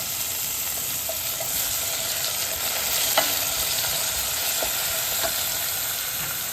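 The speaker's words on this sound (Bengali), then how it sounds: "আর এখন আমি মিক্সড ভেজিটেবল দিলাম" Mixed vegetables hitting hot oil in a pan with onion, garlic and dry chili, giving a steady close sizzle with occasional stirring clicks and scrapes against the pan.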